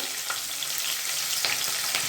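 Green chillies crackle and sizzle loudly in hot oil with cumin and asafoetida, a dense continuous hiss with a few sharper pops.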